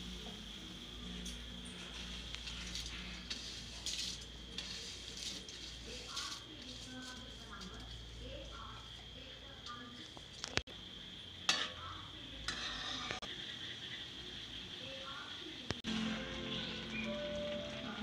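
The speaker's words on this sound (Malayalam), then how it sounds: "വെള്ളം നന്നായി തിളച്ചു ഇതിലോട്ട് സേമിയ ആഡ് ചെയ്ത് കൊടുക്കുക" Vermicelli for kesari is stirred in a pot of boiling water, giving soft scraping and bubbling with scattered utensil clinks and taps against the pan, close and quiet throughout.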